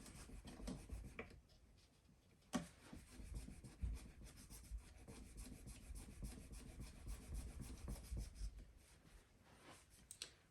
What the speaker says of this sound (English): I'm just going to attack it a little bit with my fret rubbers and just see how it comes up